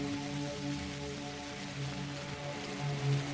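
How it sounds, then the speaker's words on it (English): Rain falls in the video game Pathologic as a soft continuous patter, faint and even, with a low tonal hum from the game's ambience beneath it and no voices. "Another rainy day on the old corral."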